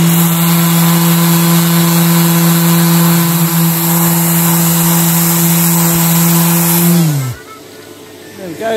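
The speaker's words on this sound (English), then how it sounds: "get a sander, give it a once over" An electric sander works over a plywood surface, a loud, steady whirring drone for about seven seconds before the motor winds down and stops.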